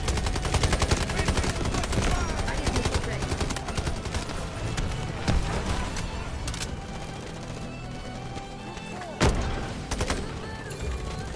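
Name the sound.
triple blaster firing in Delta Force video game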